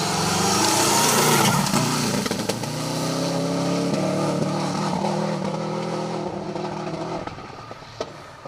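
Rally cars driving past on a road in a rally event, engines loud and close with revving, gear changes and rising pitch, then fading as they move away.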